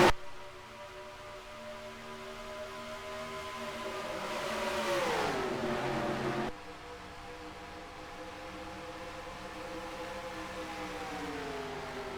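Race cars in a NASCAR-style racing video game accelerate away from the green flag at Texas Motor Speedway for the Interstate Batteries 500, a sustained engine drone rising and falling in pitch, swelling loudest midway before cutting to a steady roar.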